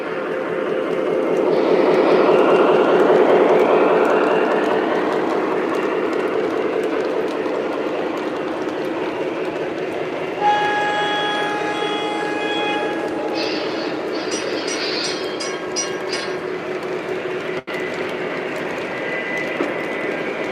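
A Lionel PRR Sharknose model train runs along its track, a steady rumbling whir with rail clatter swelling as it passes close, then a short burst of electronic horn, bell and sound effects.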